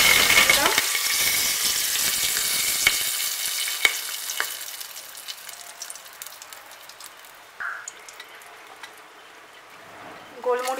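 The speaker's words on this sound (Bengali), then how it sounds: "এবার আমি তেল গরম হয়ে গেছে, এই তেলের মধ্যে তেজপাতা দিলাম" Bay leaves dropped into hot oil crackle and sizzle loudly at first, the frying noise gradually settling into a softer, sparser spitting with occasional pops.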